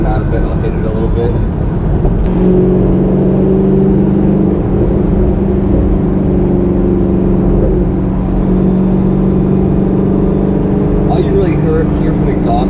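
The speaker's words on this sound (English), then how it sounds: "Hear from the exhaust now is just like a nice purr under low." C5 Corvette exhaust under light throttle after budget sound deadening, a smooth, steady low drone from inside the moving car, with someone talking over it.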